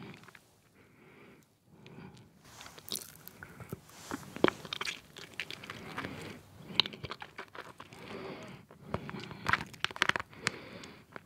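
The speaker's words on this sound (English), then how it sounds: "ASMR, hard candy eating, ginger and lemon flavor." Ginger and lemon hard candy bitten and crunched close to the mic: irregular sharp cracks and crunches over quiet chewing, with the loudest snaps coming in bunches near the end.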